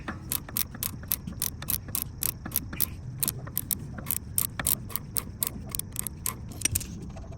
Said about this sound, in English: you can hold the counter support as you remove it with the ratchet